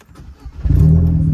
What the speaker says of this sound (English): So if we hop in the car here, turn her on, let's hear that gorgeous noise.